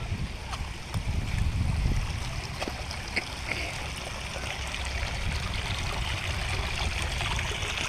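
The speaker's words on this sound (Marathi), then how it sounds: "बघा पाणी, आज पाऊस कमी आहे त्याच्यामुळे पाणी एवढं नाही आहे" Rainwater runs along a road damaged by heavy rain, a continuous low rushing trickle of moderate level with a few faint knocks and rustles nearby.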